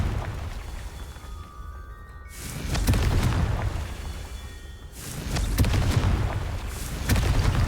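Confringo fire spell explosions in Hogwarts Legacy, during a Merlin trial: loud booming blasts in a couple of big swells, each a roaring rumble with crackling debris, spaced a few seconds apart.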